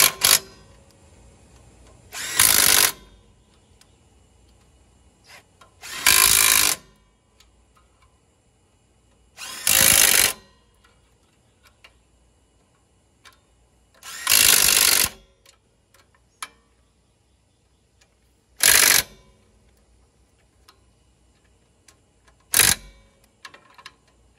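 A power tool drives a 9/16 socket while working on equipment trailer brakes, giving about seven short, loud whirring bursts with quiet pauses between them and no talking.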